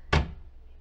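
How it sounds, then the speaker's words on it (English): A door is pushed shut with a single sharp, close thud that quickly fades into a quiet room, heard alone with no talking. "close this door."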